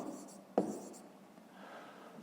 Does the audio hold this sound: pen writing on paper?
yes